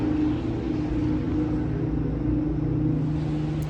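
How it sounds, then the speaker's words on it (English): A loud vehicle rumbles past nearby outdoors, a steady low engine drone with road noise holding for several seconds without talk. "There's a loud vehicle in the background."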